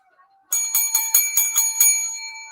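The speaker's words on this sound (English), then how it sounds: "for that rousing bell ring" A bell rung as a sign-off flourish on a Friday night sports broadcast: seven rapid, bright metallic rings in quick succession after a brief quiet moment, loud and close, with no talking over it.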